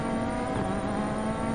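Rally car engine on a power stage at a Barbados rally, revving hard through corners with left-foot braking; a steady, dense engine roar with mild pitch changes and possible tyre noise, fairly close, with no voices.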